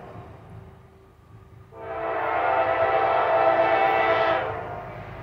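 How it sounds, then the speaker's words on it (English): A CSX EMD SD40-2 diesel locomotive, built in 1968 and formerly Conrail, passes through Piscataway, New Jersey, with a faint rumble before its horn blasts in loudly around two seconds and holds as one long chord for several seconds before ending. "Lay on the horn, CSX. Lay on that horn."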